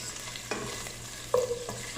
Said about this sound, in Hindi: अब अनियंस को हमने अच्छे से फ्राई करना है।